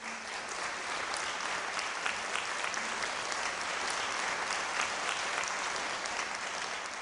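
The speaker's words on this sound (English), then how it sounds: "Can we have another big round of applause for these amazing artists?" Audience applause fills a live evening event celebrating One Tree Hill, a steady, dense wash of clapping that holds evenly throughout at moderate, slightly distant level with no talk.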